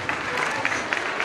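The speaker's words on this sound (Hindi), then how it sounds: "ladies and gentleman, give a big round of applause for our principal sir" An audience at a school function in India claps to welcome the principal, a brief, steady spatter of applause with a few sharper claps near the front, moderately loud and without speech over it.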